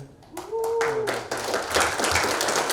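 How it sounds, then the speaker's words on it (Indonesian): Applause breaks out at a handtools launch event in Indonesia, a dense patter of many hands building after a spoken phrase and continuing loudly over a crowd murmur and voices. "Tepuk tangan, thank you"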